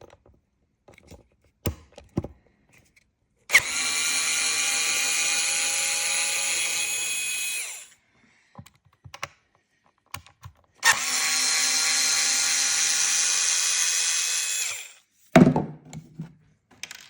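A cordless power driver whirs on screws of a Traxxas XRT RC truck in two long, loud, steady bursts of several seconds each, separated by quiet clicks and handling of parts, close up.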